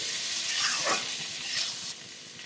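Boiled potatoes with curry leaves and cumin are stirred in a hot pan, producing a loud, continuous sizzle with soft scraping strokes, which drops slightly in level near the end; no one speaks.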